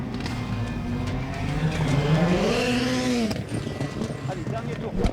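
A rallycross race car accelerates hard on the asphalt section of the Lessay circuit in France, its engine note climbing and falling in a sweeping rev over a steady mechanical rumble, with someone talking throughout.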